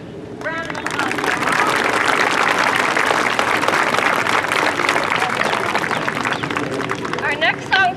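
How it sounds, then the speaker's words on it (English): An elementary school spring concert audience applauds the saxophone section, sustained dense clapping from a crowd over several seconds, with cheering and voices mixed in and a few whoops near the end. "We're going to give you a round of applause."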